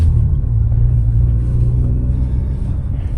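A 2023 Toyota GR86 Premium with a six-speed manual drives along, its engine producing a steady, loud low rumble and drone inside the cabin, with no one speaking.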